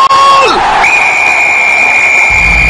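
A stadium crowd roars and cheers a football goal, a loud, sustained wall of voices with a high whistle-like tone riding over it and a brief dip at the start.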